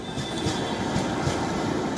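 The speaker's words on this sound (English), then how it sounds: "the almost empty trains make their way cautiously" Nearly empty passenger train rolling along rails, a steady loud rumble with faint rhythmic wheel clatter throughout, no voices.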